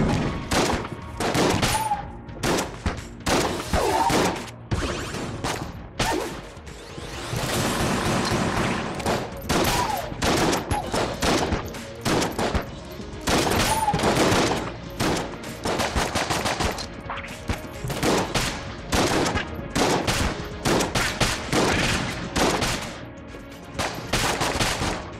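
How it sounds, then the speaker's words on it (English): Constant gunfire from a gun that switches from pistol to shotgun in Enter the Gungeon: dense, loud bursts of rapid shots repeat throughout with only brief gaps. "This is an interesting gun. It goes from a pistol to a shotgun."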